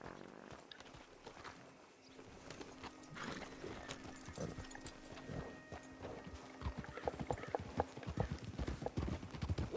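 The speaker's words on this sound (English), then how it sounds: "Que bonitinho os cavalinhos vindo juntinho." Several horses in Red Dead Redemption 2 clip-clop along together, a rhythmic stream of hoofbeats at close range, with a whinny and faint tack sounds amid the riding.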